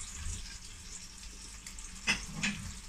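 Skin fries in a pan with a small amount of added water, giving a soft continuous sizzle and hiss, with two brief louder crackling bursts near the end.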